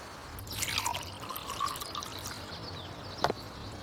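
Water trickling and splashing as it is poured into a bowl full of cotton balls, soft gurgling for a couple of seconds and then a brief drip, quiet and close.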